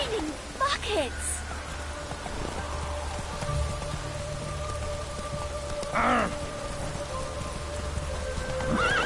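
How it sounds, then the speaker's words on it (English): Heavy rain in The Witcher 3, a continuous hiss of rainfall on surfaces heard under a man's speech, with a horse whinny and brief clattering sounds standing out over the steady downpour. "It's raining buckets!"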